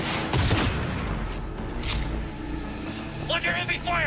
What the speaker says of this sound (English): Under heavy fire! Stay with me!